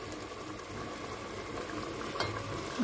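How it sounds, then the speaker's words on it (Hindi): Yakhni stock poured into raw rice in a cooking pot for Memoni pulao biryani, a steady close bubbling, gurgling wash of liquid with a brief splashy burst near the end. "अभी इसमें मैं अभी यखनी डालूँगी"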